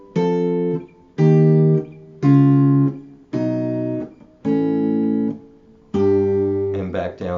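Six sustained chords on a bright, tuned instrument, stepping in whole tones around the circle of fifths, each held about a second with short gaps between, loud and clear with no talking.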